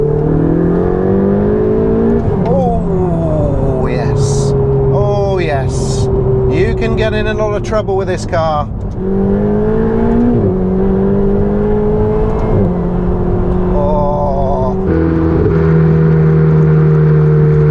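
Ferrari 488 GTB twin-turbo V8 pulling hard through third gear from inside the cabin, rising engine drone with gear changes, loud and close under someone talking throughout.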